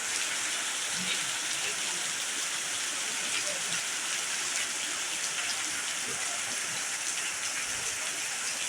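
Sudden rain falling at dusk, a dense continuous hiss of drops pattering on surfaces, steady and enveloping with no talk.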